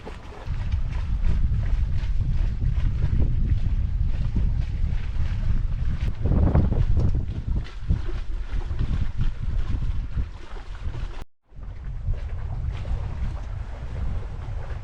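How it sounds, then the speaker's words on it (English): A sailboat under way in steady wind off the Norwegian islands, with continuous rushing wind noise on the microphone and the wash of water along the hull, loud and unbroken apart from a brief dropout. "Just beautiful sailing."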